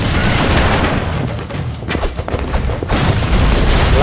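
A bomb enemy exploding in the side-scrolling action video game Broforce, with loud, dense blasts and rumbling booms filling the whole stretch, close and continuous with brief dips before erupting again.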